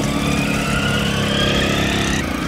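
A small motorized bicycle engine runs steadily with a buzzing, rattling drone, loud and close, its pitch shifting slightly near the end.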